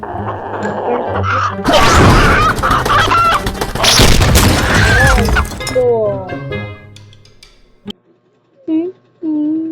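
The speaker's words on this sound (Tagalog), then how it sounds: "Manok na puti. Ay, manok na pula pala." Loud chickens clucking and squawking in a frantic flurry with clattering, then scattered clucks and short calls as it settles.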